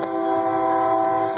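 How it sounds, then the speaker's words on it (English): A train horn sounds close and loud in one sustained chord, holding steady with rumbling rail noise beneath until it cuts off near the end. "Here's the train right here."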